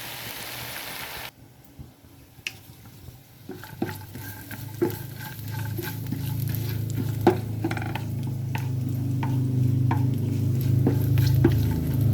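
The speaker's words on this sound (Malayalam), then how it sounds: "നമുക്ക് ഈ സമയം തേങ്ങ മൂപ്പിച്ചെടുക്കാം" Grated coconut roasting in ghee for jackfruit payasam, with a steady soft sizzle and scraping stir strokes that grow fuller over the clip, punctuated by occasional sharp utensil taps, no talk.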